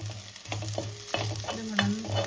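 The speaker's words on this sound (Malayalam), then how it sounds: "അതിലേക്ക് നമുക്ക് ചതച്ച മുളക്, ഉണക്കമുളക് ചതച്ചും കൂടി ഇട്ട് കൊടുക്കാം." Crushed dried chili is stir-fried with browned onions in a pan, giving a constant close sizzle broken by quick, rhythmic scraping strokes of the spatula.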